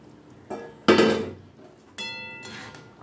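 Pieces of bhetki fish drop into a pot of fish curry with potatoes, giving a few distinct clattering knocks and splashy hits, separate and close, with quiet gaps between.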